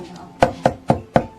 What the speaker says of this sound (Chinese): 这时我们来切韭菜